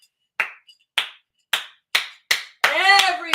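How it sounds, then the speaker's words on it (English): A single person doing a slow clap, five sharp claps spaced about half a second apart, then a voice breaks in over the last one. "it's like that slow clap at first"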